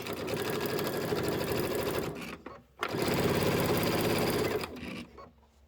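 A sewing machine pieces a fabric table topper in two loud, close bursts of rapid stitching, each stopping abruptly, with no talk.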